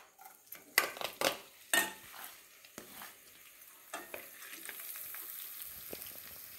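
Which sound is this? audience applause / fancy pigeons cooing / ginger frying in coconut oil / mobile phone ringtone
ginger frying in coconut oil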